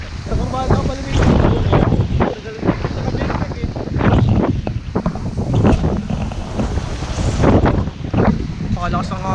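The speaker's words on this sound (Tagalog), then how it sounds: "Pakalakas ng hangin oh, kala mo yung bagyo." Strong wind roaring against the microphone during a motorcycle ride along ridges, loud and gusting, with people talking through it.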